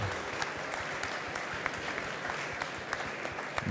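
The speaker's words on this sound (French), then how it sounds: "on peut l'applaudir plus fort que ça, s'il vous plaît, mesdames et messieurs" Audience at an architecture trophy ceremony applauds a first-prize winner, brisk dense clapping from a crowd, steady and fairly loud throughout, with faint voices beneath.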